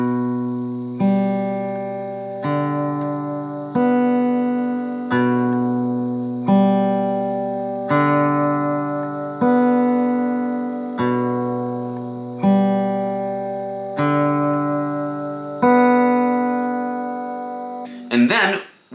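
Acoustic guitar Travis picking pattern with an alternating bass note that shifts while the picking hand stays the same, steady rhythmic plucked notes at even pace, played alone and ending with a brief scrape.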